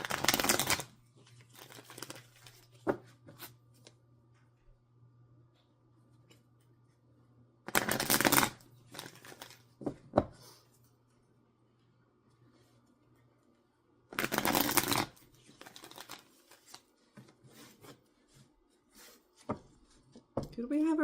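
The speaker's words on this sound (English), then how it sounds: "Let's get these cards shuffled up." Tarot cards are shuffled in three short, crisp riffling bursts spaced several seconds apart, with quiet handling rustles and a voice speaking softly in between.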